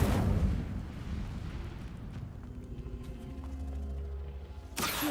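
A fire spell cast in the Hogwarts Legacy video game bursts out as a loud rumbling whoosh, settling into a crackling roar that holds steady before a sharp new burst near the end.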